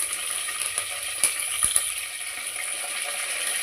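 Four sprigs of curry leaves crackle and sizzle in hot oil for tempering a potato puttu side dish, a steady close hiss broken by a few sharp pops.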